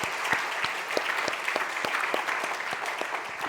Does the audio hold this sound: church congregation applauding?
yes